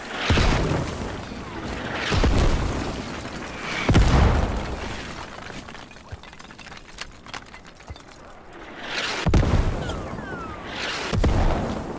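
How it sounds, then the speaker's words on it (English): Mortar shells burst in a Project Reality combat game set in Fallujah, with several heavy booming explosions arriving at intervals of one to two seconds, loud and rumbling, each one fading into a gritty tail. "Mortars, stand by."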